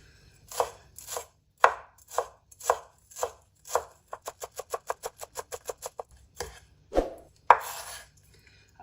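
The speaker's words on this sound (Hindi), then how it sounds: "ग्रीन चिली भी ऐसे ही हम बारीक बारीक काट लेंगे।" Green chili being finely chopped with a knife on a cutting board, with a run of steady knife strikes that speeds into quick, even taps before a few heavier chops at the end, close and clear with no talk.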